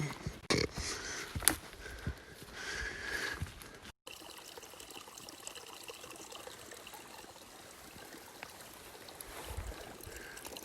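Water trickles and pours along a mountain stream in Colorado elk country, a steady soft outdoor wash with a few brief knocks near the start and no voices.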